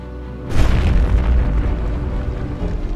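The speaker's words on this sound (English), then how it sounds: "70 tons of gunpowder went up in a devastating explosion that made all further resistance useless" Seventy tons of gunpowder in a Portuguese fortress magazine blow up during the siege of Almeida, with a sudden heavy boom that gives way to a loud, sustained, rumbling roar.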